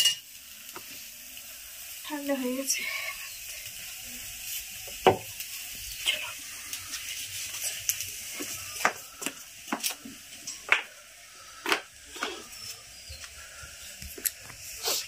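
Potatoes fry in a pan with a steady, soft sizzle, while repeated scrapes and taps of a spatula stir them throughout. A voice speaks briefly near the start.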